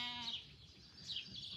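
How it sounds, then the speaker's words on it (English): Sheep bleat faintly twice in a farm garden near a barn, a short high quavering call at the start and another about a second later, with birds chirping lightly in the background. "I do love the sound of the sheep."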